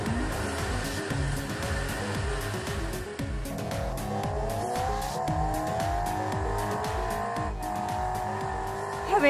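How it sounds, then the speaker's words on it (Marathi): A car accelerates and drives hard with repeated tire squeals, its engine revving in rising sweeps over rhythmic rumbling, loud and close for the whole stretch. "वेदांत, ही गाडी खूप खूप खूप खूप भारी आहे रे."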